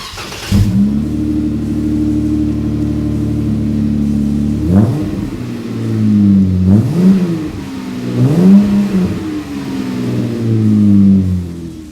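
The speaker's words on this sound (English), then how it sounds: "Our Flowmaster American Thunder catback exhaust is installed. It sounds really good." A Jeep Wrangler JK's engine, fitted with a Flowmaster American Thunder 2-1/2 inch single stainless cat-back exhaust, settles into a loud, deep idle before being revved in several rising and falling bursts close by.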